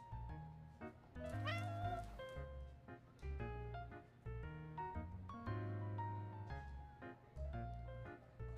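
Cats meowing in the video game Love and Deepspace, repeated drawn-out meows set over a game music soundtrack, fairly quiet and alone with no talk.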